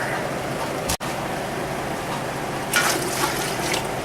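Water pours from a measuring cup into a pot of vinegar while canning pickled peppers, a close gurgling splash that swells briefly after a steady low kitchen background.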